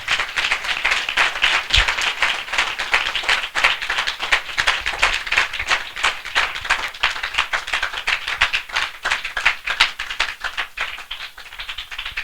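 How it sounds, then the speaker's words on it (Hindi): Sustained, dense clapping from an audience at a church assembly, loud and steady for the whole stretch with no voices on top. "हम जोरदार तालियों से उनका स्वागत करें"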